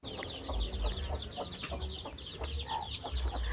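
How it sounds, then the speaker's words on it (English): Chickens cluck repeatedly while baby chicks peep among them in a farmyard in Lombok, Indonesia. The calls are fairly close and continuous over a low background rumble. "They've got 6 ducks here and loads of baby chicks running around."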